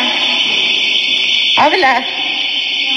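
A loud, steady electronic alarm tone sounds continuously inside a parking garage, with someone talking briefly over it near the middle.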